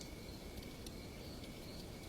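Crickets chirp in a faint, continuous high trill over a soft night background, with no talk.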